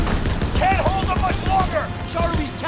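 Rapid gunfire from an overheating gun in Call of Duty WWII rattles in dense, continuous bursts, loud and close, with a voice talking over the shooting.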